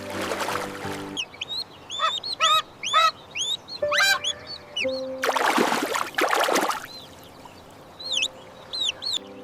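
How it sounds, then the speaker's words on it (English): A baby goose gives a run of small chirping peeps and soft honks, close by, with a couple of brief noisy rustling bursts between the calls. "The baby goose is making a soft noise."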